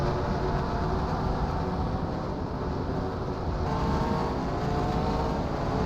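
Stock race cars at a Canadian Tire track roar steadily through the corners in a dense, continuous engine drone with no breaks, and the pitch shifts slightly as they pass.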